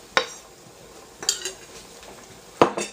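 Thick beef pie filling with beurre manié gets stirred in a pot over gentle heat, three distinct scraping clinks of a utensil against the pan spaced apart, moderately close, with no talking.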